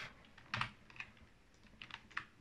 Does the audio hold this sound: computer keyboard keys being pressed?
yes